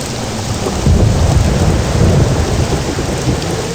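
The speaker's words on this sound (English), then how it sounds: "Let's get out of this storm." A video game thunderstorm: loud, dense rain with deep rolling thunder swelling in the middle, steady and close, no talking.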